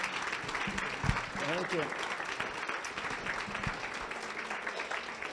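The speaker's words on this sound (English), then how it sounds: "Let's give him another round of applause." Audience applause after a talk at a religious freedom event, steady clapping filling the room throughout, with a brief spoken thanks over it.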